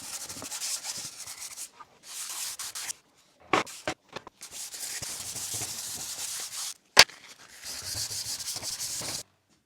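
Sandpaper is rubbed by hand over the filled wooden body of an old wood plane in bursts of close, gritty scratching strokes, broken by brief pauses and a sharp knock partway through.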